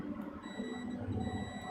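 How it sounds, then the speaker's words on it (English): Continuity tester beep while probing two points on a Sega Genesis board during a Triple Bypass install, a faint steady electronic tone with a thin high harmonic, sounding continuously for over a second under low room noise. "But if I do this, you should be hearing a beep."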